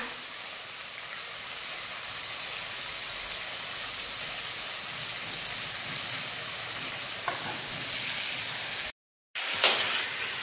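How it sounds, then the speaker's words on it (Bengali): Prawns fry in hot oil, a continuous even sizzle that hisses steadily for several seconds, briefly cut off before resuming with a crackling burst. "তেল আমাদের গরম হয়ে গিয়েছে, এবার দিয়ে দেবো চিংড়ি মাছগুলো।"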